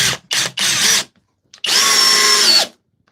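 A Flex power drill runs in short bursts, three quick whirring pulses and then one longer sustained spin, loud and close with a high whine.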